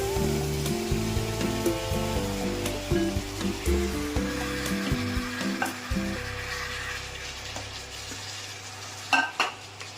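Marinated mutton fries in hot oil for biryani, giving a close, crackling sizzle with repeated stirring scrapes while music plays in the background.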